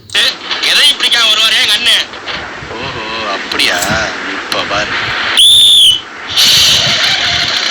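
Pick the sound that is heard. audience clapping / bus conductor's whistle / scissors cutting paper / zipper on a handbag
bus conductor's whistle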